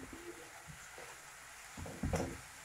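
Onions frying and caramelizing in a pan give a soft, steady sizzle under a quiet hiss, with a short burst of stirring scrapes and clatter near the end. No one speaks.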